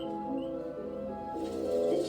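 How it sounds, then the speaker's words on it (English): Baby birds tweeting in spring, soft repeated high chirps and cooing calls layered over a steady background, close and moderately loud with no voices. "the tweeting of baby birds"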